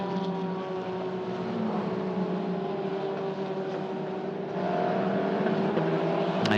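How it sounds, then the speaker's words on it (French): A single-seater race car passes through the pit lane at Magny-Cours, holding a steady buzzing engine drone at limited speed that grows somewhat louder toward the end. "On a une voiture là, qui passe par la voie des stands."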